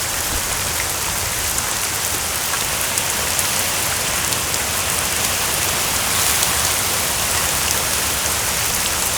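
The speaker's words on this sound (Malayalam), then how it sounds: "ഇവിടെ ഭയങ്കര മഴയാ." Heavy rain pours down during a night thunderstorm, a loud, dense, unbroken hiss of drops hitting surfaces that holds steady for the whole stretch with no voices.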